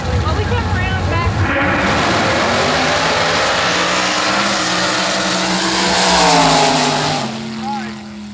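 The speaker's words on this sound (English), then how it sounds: "these long burnouts really work the crew over" A nostalgia Super Quick Series drag race car at CID doing a long burnout, its engine roaring loud and close with shifting tones and a rising surge near the end before easing off.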